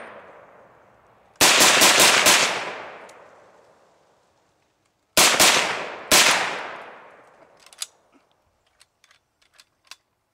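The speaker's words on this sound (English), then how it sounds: "Let's take a couple of shots down here." Three loud gunshots from an American-made gun fired outdoors, the first and last two with long decaying echoes, followed by a few small sharp clicks and taps.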